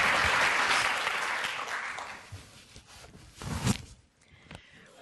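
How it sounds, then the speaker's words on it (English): A conference audience claps for a speaker, loudest at first and then fading out into scattered claps and shuffling. "Let's hear it for Lindsay."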